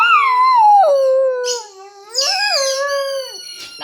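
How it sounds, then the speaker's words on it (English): A dog lets out a long, drawn-out howl, its pitch sliding downward and then rising again in a second wavering phrase, loud and close with no other voices. "That was a long howl."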